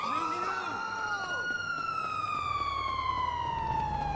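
Police car siren in Grand Theft Auto, a steady wailing tone that sweeps down slowly in pitch. It plays loud and close throughout with no talk over it, over a low game rumble.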